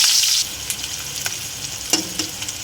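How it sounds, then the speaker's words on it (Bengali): Chopped onions fry in oil for a rohu curry with green banana, pointed gourd and potato. A loud sizzle burst at first settles into a steadier hiss, broken by a few sharp spatula taps. "পেঁয়াজটা ভাজা ভাজা আর একটু ভাজা হোক।"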